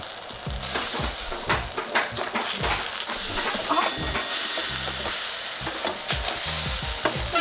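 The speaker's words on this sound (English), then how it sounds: "And cook it in the pan." Food frying in a pan at home, a loud continuous sizzle with rhythmic scraping and clattering of a utensil stirring, close and busy throughout.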